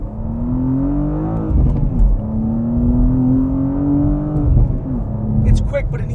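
BMW M2 with a 6-speed manual pulling hard on a highway, engine note climbing steadily, easing off briefly for a shift, then climbing again, loud and close, with a voice heard now and then over it.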